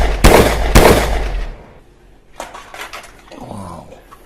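A toy pistol firing two sharp, loud cracks in quick succession, followed by fainter clicks and rattling handling noises, with no talk.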